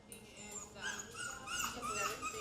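A dog whimpers and whines in thin, high, wavering cries that rise and fall, faint and close, with light background noise and possible voices nearby.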